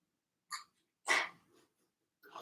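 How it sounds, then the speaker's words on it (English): A dog gives a few short barks and huffs, spaced apart and close by, with quiet gaps between them. "You barking too much, huh?"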